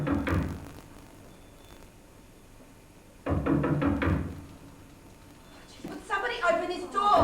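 Knocking on a door in a radio drama, two bursts of loud, close raps separated by a quiet pause, followed by a voice speaking.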